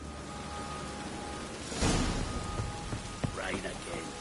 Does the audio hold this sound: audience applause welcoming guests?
no